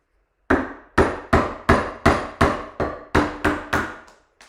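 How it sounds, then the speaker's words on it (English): Wood being split with blows during woodcarving, about ten sharp, evenly spaced strikes, each ringing briefly before the next, close and alone with no talk. "I think I'm going to try splitting that a bit more for some speed."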